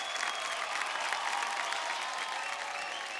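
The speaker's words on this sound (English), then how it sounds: "let's have a big round of applause for our mentors." A large audience applauds at a film festival awards ceremony, a steady, even roar of many hands clapping that holds at a moderate level without breaks and with no voices standing out.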